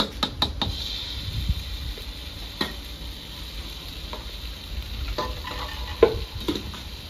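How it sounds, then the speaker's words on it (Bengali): Prepared gravy is poured into a pan of fish curry with potato and eggplant, cooked village-style, giving a soft steady sizzle with a few sharp utensil knocks and scrapes. "তরকারির জন্য গ্রেভিটা করে রেখেছিলাম, ওটা ঢেলে দিচ্ছি।"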